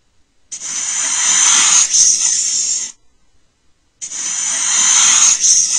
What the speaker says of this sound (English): All kinds of snakes.